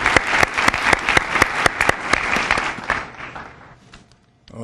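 An audience at a Prince George's County summer launch event claps loudly for about three seconds after a speaker's introduction, then the applause thins out and fades to near silence.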